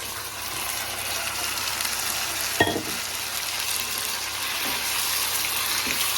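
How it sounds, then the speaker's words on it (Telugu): Marinated chicken drops onto frying onions in a pan and sets off steady close sizzling, with a sharp clatter as it lands and soft stirring scrapes afterward. "ఇప్పుడు ఇందులో ఇందాక మ్యారినేట్ చేసుకున్న చికెన్ ఉంది కదా ఇది ఇందులో వేసేస్తున్నాను"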